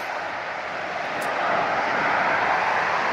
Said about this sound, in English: Sun Country to get ready for this takeoff